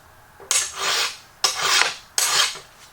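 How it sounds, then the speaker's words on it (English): A steel burnisher is drawn along the edge of a woodworking card scraper to reapply its burr: three separate rasping metal strokes, each about half a second long, close and fairly loud against a quiet background. "if I need to reapply the burr"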